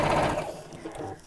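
A sewing machine stitching through a fabric dress-up crown, a short close burst of fast mechanical whirring that fades out quickly.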